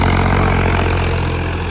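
A new Swaraj 855 tractor engine runs at a steady, loud idle, a continuous low rumble with an even throb and no pauses.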